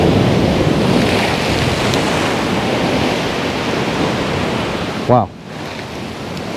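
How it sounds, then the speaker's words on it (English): Ocean surf crashes in a continuous, loud, close roar of breaking waves on a calm, windless morning in Thailand, with a short spoken exclamation cutting in briefly near the end. "Pretty intense live surf action here."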